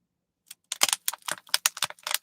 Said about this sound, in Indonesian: Oh ini kayaknya suara botolnya botol plastik. Bukan botol gelas.